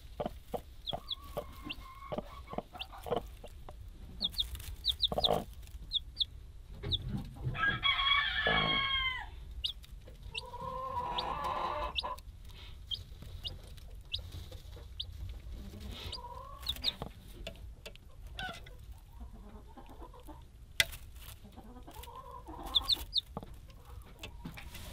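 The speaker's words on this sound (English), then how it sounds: "Nice healthy little chick. He's bouncing around, eating food, drinking water, really healthy." Chickens on an Alaskan homestead cluck and crow in scattered bursts at low volume, with soft rustling and movement in between.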